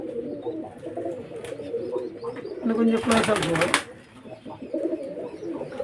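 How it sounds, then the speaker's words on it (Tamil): Pigeons of long-kept bloodlines cooing inside a cage in Trichy, a steady low murmur of calls running throughout, with people talking over them close by. "புறாக்கள் இருக்கிறத மட்டும் அப்படி காட்டணும்."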